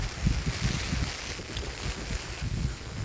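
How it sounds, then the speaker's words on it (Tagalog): Blustery wind buffets the microphone in low, rumbling gusts that rise and fall throughout, with no voices present. "Lakas po ng hangin"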